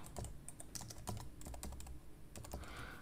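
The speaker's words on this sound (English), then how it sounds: "Make sure I'm typing everything right." Rapid, irregular clicking of keys on a computer keyboard, close and fairly quiet, with brief pauses between bursts.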